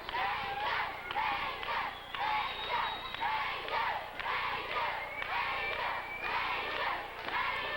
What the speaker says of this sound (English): And the crowd is chanting for Ranger.